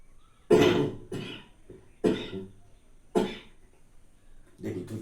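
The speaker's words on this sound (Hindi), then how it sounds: "देखिए कोई खांसी है" Four harsh coughs spaced about a second apart, close and loud, with quiet pauses between.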